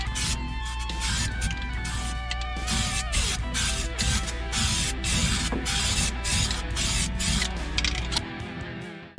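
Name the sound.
spraying weld-through primer on car floor panel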